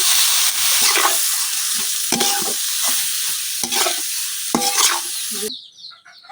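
Cut potato and bottle gourd pieces sizzle and fry in hot oil in a pan, a steady loud crackle broken by repeated scraping stirs before the frying cuts off near the end.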